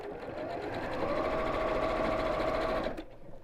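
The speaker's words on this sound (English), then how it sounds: "So just sew down that edge." A sewing machine stitches down a fabric edge, a steady close mechanical whirr running continuously for nearly three seconds before stopping abruptly.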